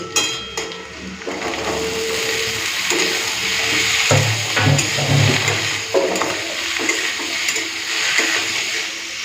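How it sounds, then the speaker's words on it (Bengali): Potato pieces fry in a pan with green chilli, a steady broadband sizzle with occasional stirring scrapes, close and fairly loud throughout with no talk. "তো আলু ভাজার সময় একটুখানি নুন আর হলুদ দিয়ে দেবো"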